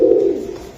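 A pigeon at a Bengali pigeon market gives a single close, soft, low coo that swells briefly and fades, with no voices over it.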